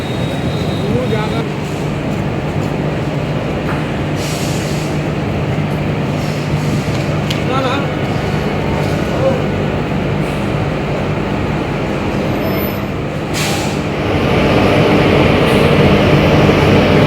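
A train creeps very slowly into a station near Howrah, bound for Tata, with a continuous low rumble that swells louder toward the end, along with scattered clanks.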